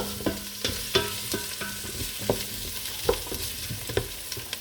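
Butter sizzles in a pan with chicken feet, a continuous frying crackle with regular scraping stirs and utensil knocks repeating every half second or so, no voices.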